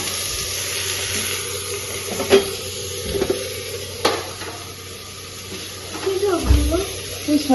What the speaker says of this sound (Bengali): পেঁয়াজটা একটু ভাজা ভাজা করবো হলুদ লবণ দিয়ে